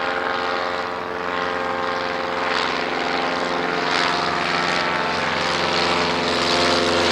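A Roe triplane's propeller engine at the Shuttleworth evening air display, a steady close drone with a strong buzzing tone that swells slightly louder toward the end, heard without talk.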